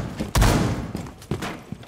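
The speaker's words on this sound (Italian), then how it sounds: "Quanti spari?" Several sharp gunshot bursts in Rainbow Six Siege, one heavy blast followed by a few quicker pops spread over two seconds, fairly loud and close.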